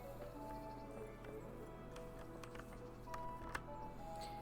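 Rhythmic clip-clop of horse hooves in the video game Kingdom Come: Deliverance plays softly over a steady low hum and faint tones, the steps fairly quick and even.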